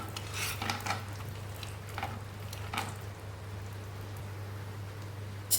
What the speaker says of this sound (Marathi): इथे मी तूप टाकून घेत आहे मंडळी तर इथे पाहू शकता तुम्ही थोडंसं भाजून घेऊया